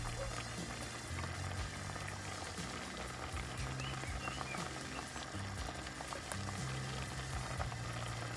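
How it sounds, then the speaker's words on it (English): Tomatoes, onions and pepper boil in a covered saucepan for Ghanaian palm nut soup, giving a steady bubbling simmer with a low rumbling undertone that runs without a break. "cover my saucepan and cook it for about 25 minutes or until you see that the tomatoes and onions are soft enough to be blended"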